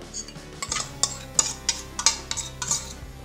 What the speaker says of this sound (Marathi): आणि आता चांगलं मिक्स करू